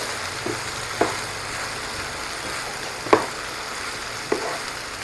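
Food fries on a 2000-watt stove, a steady hiss of sizzling with three or four brief louder clinks or stirring knocks spaced apart.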